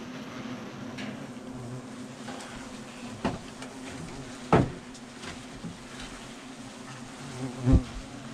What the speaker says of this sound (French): Première attaque du frelon asiatique, hein, c'est normal.